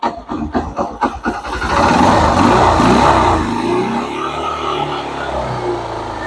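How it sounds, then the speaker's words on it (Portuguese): A car engine runs with a newly installed carburetor, opening with a few rhythmic chugging pulses, then settling into a loud, steady, close running drone with a faint hiss. "Carburador novo, instalado, funcionando perfeitamente"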